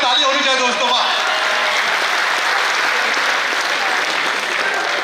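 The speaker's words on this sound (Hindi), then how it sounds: "ताली होनी चाहिए दोस्तों।" An audience at a trilingual poetry gathering claps loudly and continuously, with a steady wash of applause. A voice speaks briefly over the clapping at the start.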